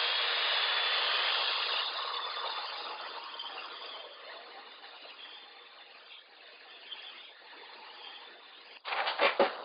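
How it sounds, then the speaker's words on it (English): A heat tool blows steadily while heat-setting a watercolor card, a loud continuous whir that fades slightly over time before a few sharp bursts at the end. "so now I'm going to heat set this"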